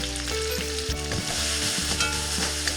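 Chopped large onions and green chillies sauté in a pan for pineapple fried rice, with a steady close sizzle and occasional stirring scrapes throughout and no talking.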